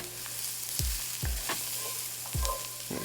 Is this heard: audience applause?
no